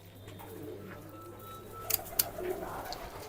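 Soft cooing of Punjabi pigeons at a rooftop loft, low volume amid faint background hum, with a couple of brief sharp clicks or flutters partway through.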